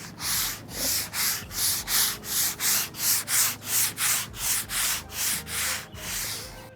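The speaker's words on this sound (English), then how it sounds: "I'm gonna take my same sanding block that I used earlier for the primer, and I'm gonna smooth out everything" A sanding block rubs back and forth over painted furniture between coats, giving about fifteen steady, evenly spaced abrasive strokes, close and moderately loud, with no talking.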